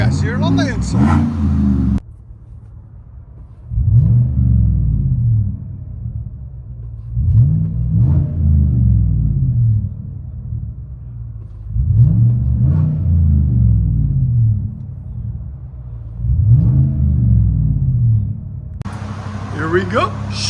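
Inside the cabin of a 2019 Chevy Tahoe 5.3L V8 with a Flowmaster Super exhaust, four evenly spaced rev bursts swell into a muffled, booming drone and fall back to a low idle rumble, with brief louder noise at the start and end.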